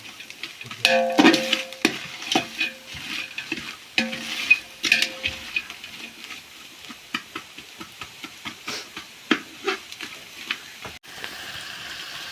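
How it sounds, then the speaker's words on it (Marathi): Chopped onions fry in hot oil for a party biryani, a steady close sizzle with frequent scraping stir strokes and small ticks, no voices over it. "कांदा ना आपल्याला करपटून घ्यायचं लाल कांदा करून घ्यायचा अख्खा"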